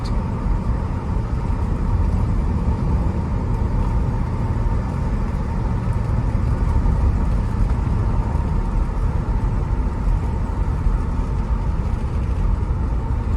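Steady low rumble of a 1965 Buick Riviera cruising along, engine and road noise droning evenly from inside the cabin with no talk.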